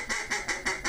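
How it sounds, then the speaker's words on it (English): A duck call made by Pacific Calls, a Northwest waterfowl call maker, blown in five quick, evenly spaced nasal quacks, close and loud with no talking. "Whether it's a duck call,"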